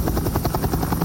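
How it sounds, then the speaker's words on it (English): A firefighting helicopter working a wildfire, its rotor giving a loud, close, continuous rapid thumping with engine buzz and no voices. "helicopters continue to drop more water on the fierce flames"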